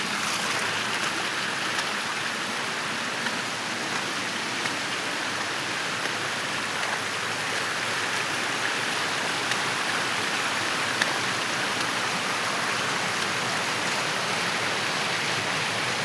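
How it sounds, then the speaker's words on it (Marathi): Small waterfalls tumbling down stone steps near the Buddhist caves at Mahad, a steady, unbroken rush of splashing water that holds evenly throughout with no voices. "त्या पायऱ्यांवरती पण मस्त छोटे छोटे चालले धबधबे"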